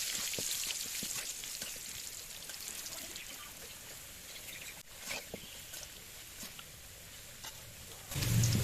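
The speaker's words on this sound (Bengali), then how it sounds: "এবার আলুটা লাল লাল করে ভেজে নেব।" Oil sizzles and crackles steadily as potatoes with turmeric and salt fry in a pan, with scattered pops and a louder clatter at the end.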